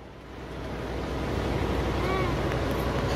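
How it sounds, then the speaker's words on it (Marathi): Continuous broadband roar of the Dhasgarh waterfall near Chichgad, Deori in Gondia, steady and full with rushing water and some wind buffeting on the microphone, no clear speech over it. "ढासगड म्हणजे हा एक वॉटरफॉल आहे"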